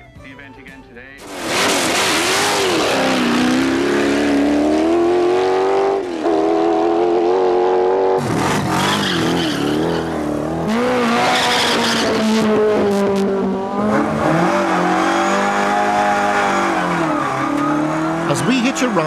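A Ford Escort rally car at the 1997 Inistioge Hillclimb, its engine revving hard and loud from close by, rising and falling through gear changes with brief tyre squeal, a voice audible beneath.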